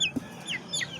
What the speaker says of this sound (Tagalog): Iba nating lalaking manok nakakulong.